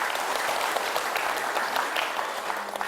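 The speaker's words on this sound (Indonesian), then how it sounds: "Tepuk tangan nomor ini." Steady applause from an audience at a Balinese Hindu dharma talk during a Pitra Yadnya and Atma Wedana ceremony in Mengwi, a dense continuous clapping throughout with no voices over it.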